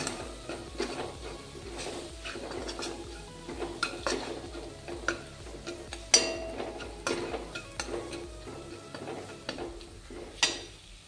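Red chili powder and coriander powder roast with masala in a pan for coriander vadi, soft sizzling under repeated scraping and clinking of a spoon against the pan, close and moderately loud.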